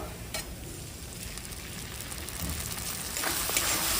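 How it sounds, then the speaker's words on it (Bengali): Spice paste with ground tomato, cumin, coriander, Kashmiri chilli and pepper sizzles and spits in hot oil for prawn pulao, a constant close frying hiss that swells louder toward the end, with occasional stirring scrapes. "এরপর মশলাটা আমি কষি নেব"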